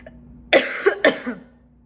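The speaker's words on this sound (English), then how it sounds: "Excuse me while I have a coughing attack." Two harsh coughs in quick succession, close to the microphone, over a low steady hum.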